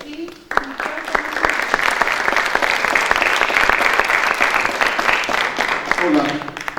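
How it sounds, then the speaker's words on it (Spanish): Audience applause fills the room steadily and loudly, many hands clapping densely from start to finish, with a brief lull and a few scattered claps near the end, honoring a speaker on constitutional judicial reform. "Brindémosle otro aplauso"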